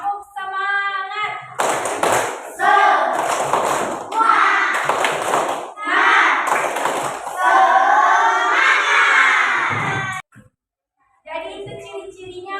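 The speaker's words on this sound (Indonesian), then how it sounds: "ayo tepuk semangat" A fourth-grade elementary classroom of children performs a rhythmic spirit clap, bursts of hand clapping in patterned groups alternating with children chanting together, then a brief pause and a teacher's voice near the end.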